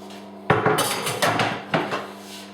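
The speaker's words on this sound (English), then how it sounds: "So, here we go, pears into the pan." Chopped pears tumble into a big metal pan, a loud initial clatter followed by several sharp knocks and scrapes of fruit and utensil against the pan.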